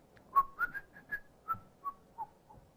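A person whistles a short tune of about nine separate notes that rise and fall in pitch. The whistling is fairly quiet, with nobody talking over it.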